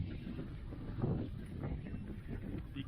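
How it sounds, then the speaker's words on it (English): Strong wind buffets a microphone outdoors at a drone flying field, a continuous low rumbling roar with gusty surges, loud and close throughout. "It's too windy, folks"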